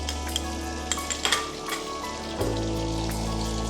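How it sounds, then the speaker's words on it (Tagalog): Butter and oil sizzling in a hot pan, a steady crackling fry with a few sharper pops near the start, close and moderately loud with no talking. "We add in our butter."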